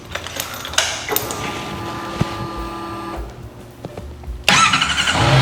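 A motorcycle engine cranks and catches, powered by a MOTOBATT hybrid lead-lithium starter battery, with mechanical whirring and clicks before a loud burst of running engine noise at the end, no talk.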